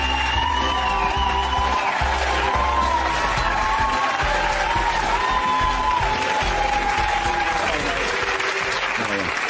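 A studio audience on The Jeremy Kyle Show breaks into sustained, loud applause with scattered cheers and whoops, while a voice speaks over the clapping.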